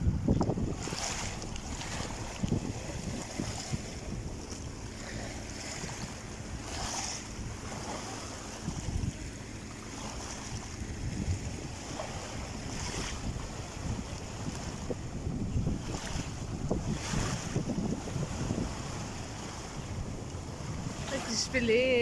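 Sea waves wash continuously along a seaside shore where fishermen are out on a sunny day, with steady surf and wind noise buffeting the microphone and a boat faintly present throughout.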